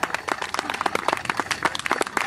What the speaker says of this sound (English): A rousing round of applause for our four finalists for the Picton Rising Star.